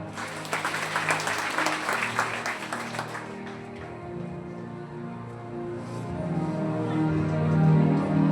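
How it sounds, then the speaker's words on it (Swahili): A church congregation at a Sunday service applauds, loud clapping for about three seconds before fading into a quieter murmur, with some talk and a swelling low sound toward the end. "Tupigie Yesu makofi."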